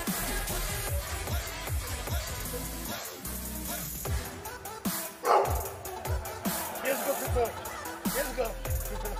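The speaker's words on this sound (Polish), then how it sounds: "Wkurzyłeś pieska." A small dog barks in short bursts inside a busy, loud mix of voices and other noise, with the barking partly buried under the talk.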